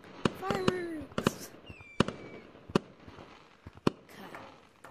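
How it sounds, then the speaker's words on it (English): Fireworks burst in the Gorilla Tag game, a series of sharp loud cracks and pops spread over several seconds, some with whistling rises, mixed with scattered voices. "Fireworks!"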